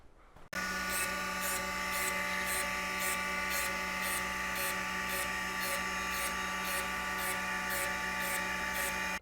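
Grinding relief into a scratch-built threading die, a loud steady motor whine with a grinding buzz that starts abruptly and runs unbroken, pulsing faintly in a regular rhythm throughout.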